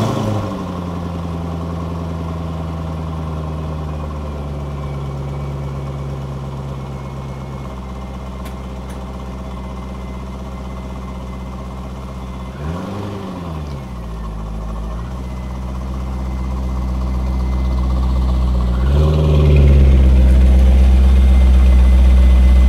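A C5 Corvette V8 idles steadily after starting, a loud, close, continuous low rumble with a couple of brief pitch dips and a heavier, louder drone toward the end.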